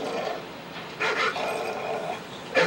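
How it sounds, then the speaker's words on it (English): Dogs fighting each other in Call of Duty: Modern Warfare 3: rough in-game growls and snarling bursts, strongest near the middle and at the very end, over a constant background of game noise. "It's just Modern Warfare 3, dogs fighting."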